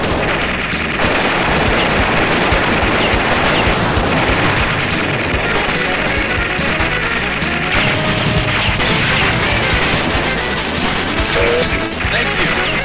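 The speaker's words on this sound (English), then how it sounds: "Heavy machine gun. Heavy machine gun. Heavy machine gun." Heavy machine gun fire in the Metal Slug X arcade game, a continuous loud barrage of rapid shots and explosions over game music, with a repeated voice announcing the weapon.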